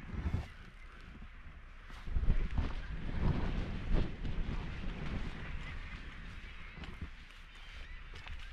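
Strong gusting wind buffets the microphone on a rugged Scottish coastal clifftop, rising and falling in loud rushes with a roaring sea-like background.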